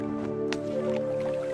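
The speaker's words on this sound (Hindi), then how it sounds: "अब आप इन दोनों घड़ों को पानी में डाल दीजिए।" Two clay pots lowered into water, giving soft drips and squishy, gurgling splashes over a steady tonal musical drone in a storytelling scene.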